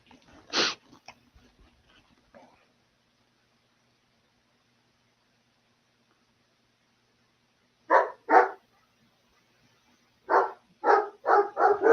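Several dogs bark in short bursts, one yelp early on, then a pair of loud barks and a rapid run of barking near the end, with silence in between.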